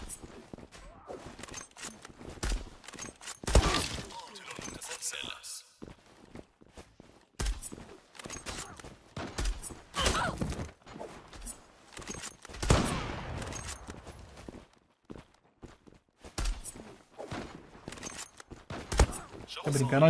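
Sniper gunfire in the Zula online shooter game: sharp, scattered shots and bursts recur throughout, mixed with footstep-like clatter and someone talking over the action.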